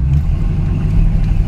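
A 1967 Ford Mustang engine runs slightly rough on a test drive, its carburetor loading up, giving a steady, close, low rumbling drone with no voice over it.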